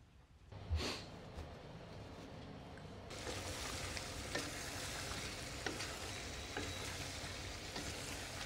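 A pot of beef liver with salted bacon simmers in a steady, soft bubbling hiss after a brief clatter at the start, continuing evenly close by.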